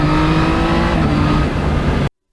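Yamaha MT-09 motorcycle engine held at a steady, loud drone with strong low harmonics, throttle working back and forth while riding, ending abruptly after about two seconds.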